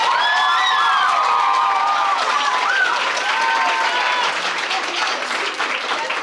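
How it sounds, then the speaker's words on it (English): A debate summer camp showcase audience bursts into full applause with cheering and high shouts or whoops as second place is announced, loud and sustained clapping from many people across the whole stretch. "receiving a full round of applause"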